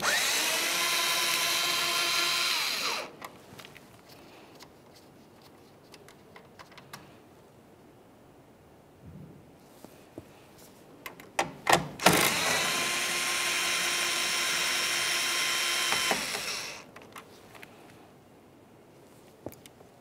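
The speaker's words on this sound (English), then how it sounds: "Now we can remove our two 8mm headed mounting nuts." A power tool removing two 8mm bumper mounting nuts on a 2012-2018 Nissan Altima, with two loud close whirring runs of a few seconds each. Clicks and handling clatter fill the quieter gap between them.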